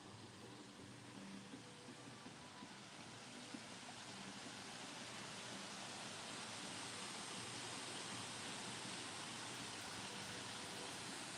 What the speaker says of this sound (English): we got a nice waterfall over here